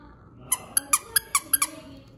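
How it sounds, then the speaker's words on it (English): A squeaky dog toy squeezed seven times in quick succession, each squeak sharp, shrill and close, spaced in an uneven rhythm against a quiet background. "Do you have a dog toy that squeaks"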